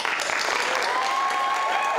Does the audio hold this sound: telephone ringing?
no